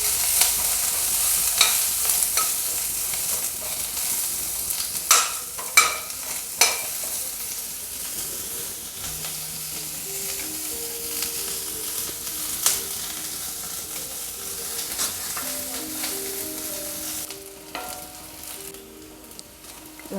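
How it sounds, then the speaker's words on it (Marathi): Onions frying in a little oil for drumstick masala, a steady sizzle with occasional stirring clinks and scrapes, close and continuous with no talking. "अर्धा टीस्पून तेल टाकायचं कांदा भाजायला"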